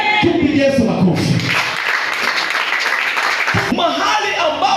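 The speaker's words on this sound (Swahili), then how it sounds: "Tumpigie Yesu makofi." Church congregation at a Swahili preaching service breaks into clapping and cheering for a couple of seconds, a loud crowd wash framed by a voice speaking before and after.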